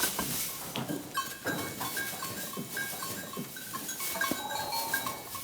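Goats jostling for rank in a herd, with repeated bleats over a steady rustle of movement and occasional faint metallic clinks, continuous and fairly close throughout.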